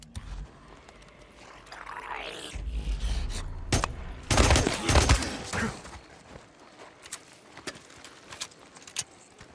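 Pistol shots in the video game Days Gone ring out as several sharp cracks in a cluster around the middle, amid rumbling vehicle or engine noise, then a few scattered faint clicks and impacts afterward.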